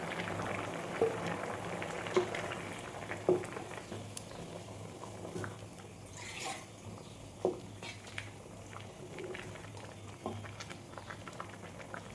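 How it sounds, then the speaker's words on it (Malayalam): A chickpea kurma curry boils in a pot with a soft, steady bubbling and a few small pops and splutters, fairly quiet and close, with no talking. "നമ്മളെ കറി നല്ലപോലെ തിളച്ച് വന്നിട്ടുണ്ട്"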